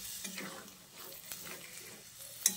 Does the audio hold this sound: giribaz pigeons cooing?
no